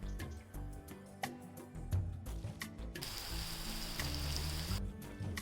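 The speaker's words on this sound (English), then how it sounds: "add 3 to 4 large onions sliced, few curry leaves and some salt." Sliced onions fry in oil with mustard, cumin, fennel and fenugreek seeds, curry leaves and salt, a close, steady crackling sizzle broken by intermittent clinks and stirring scrapes, with no talk.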